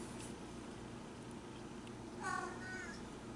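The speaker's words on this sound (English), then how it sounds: "My cat said hi. Say hi back to my cat." A house cat gives a short meow, clear but fairly soft, against quiet indoor background hiss.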